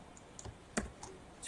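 Quiet, sparse key taps on a computer keyboard as parentheses are typed, a few soft clicks with one sharper keystroke near the middle, in a calm room.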